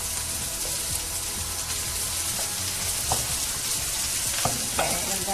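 Cheesy pasta sauce with salmon stirred in a sizzling pan, a steady frying hiss with scraping spoon strokes and occasional clicks, close and continuous with no talk.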